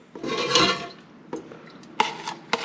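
Chilies, onion, garlic and broth for an adobo tip into a blender jar, with a splashy pour followed by a few sharp clinks and knocks of a utensil against the container.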